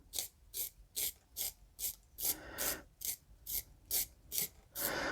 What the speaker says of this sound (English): Don't want to sharpen the wrong end here.